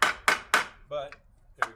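A hammer strikes a round metal salvage piece for garden art, giving three quick, sharp knocks in a row, then a short ringing tone and one more knock after a brief pause.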